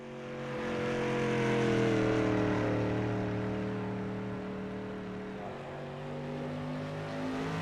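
A dirt street stock race car running a lap at Knoxville, its engine a strong tonal roar that swells as it nears, eases off mid-lap, then climbs again in pitch under acceleration, with no talking.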